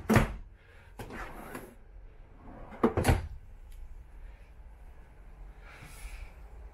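Several wooden drawers slide open and shut with clunks and bumps, spaced irregularly, close by in a quiet room.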